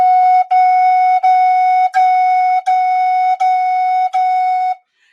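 A Native American flute plays one steady tone repeated seven times with a crisp tongued attack on each, evenly spaced and clear, alone and close with no talk.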